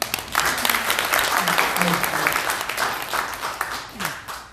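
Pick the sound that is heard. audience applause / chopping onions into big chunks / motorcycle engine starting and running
audience applause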